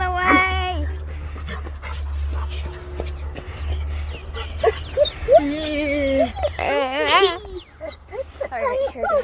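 A puppy whimpers in high, wavering cries and pants between them, close up over a low steady hum, with short stretches of quieter breathing.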